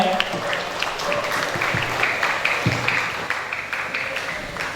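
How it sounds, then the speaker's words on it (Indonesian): Scattered applause at a tahfidz graduation ceremony, a moderate wash of clapping mixed with crowd murmur and some voices, fairly even across the few seconds. "Boleh tepuk tangan untuk kita semuanya."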